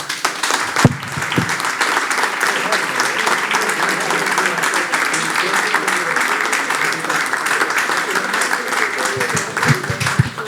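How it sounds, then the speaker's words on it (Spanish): Loud, sustained applause from a lecture audience after talks on the educator María de Maeztu, dense clapping filling the room evenly from start to finish with a few close thumps at the edges. "espero que querramos dar un aplauso a todos."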